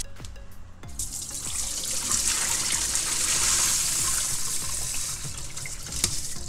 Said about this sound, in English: When you're washing the beans, you can just rub them in your hands like this just to get the dirt off.